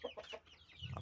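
Chickens bred from a laying hen and Bangkok gamecock cross cluck in short repeated calls, close by and fairly loud, with a few overlapping bursts and no talking.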